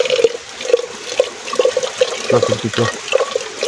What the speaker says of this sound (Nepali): यस्तो मिठो कलकलाउँदो पानी छ, खोला नाला छ